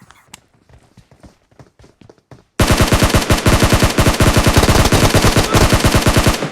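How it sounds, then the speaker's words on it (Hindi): Gunfire in PUBG Mobile: a few scattered shots, then a sudden loud sustained burst of rapid automatic fire that continues to the end. "सिर्फ मैंने बॉट फायर किया और देखते हैं अभी क्या होता है"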